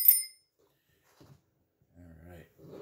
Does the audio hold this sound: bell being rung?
yes